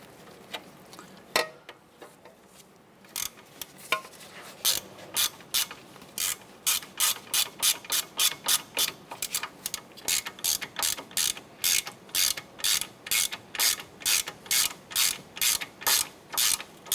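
Ratchet snugging down three bolts on a 2008-2012 Honda Accord driver side front wheel hub, fast steady clicking that grows louder and more regular, close up with no talking.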